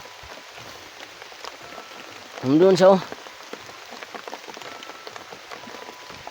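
Steady light rain patters on surfaces, a soft continuous hiss, briefly interrupted by a short spoken phrase close by.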